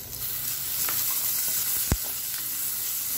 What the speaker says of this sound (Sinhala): ඊළඟට මං සුදු ලුණු ටික එකතු කර ගන්නවා